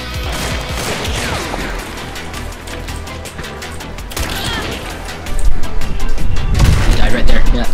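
Gunfire and explosive booms from the online shooter game Hunt: Showdown, with a loud burst of shots and crashes growing heavier in the final seconds, mixed under excited voices.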